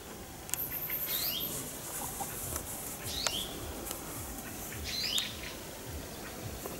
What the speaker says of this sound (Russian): Птичек вам.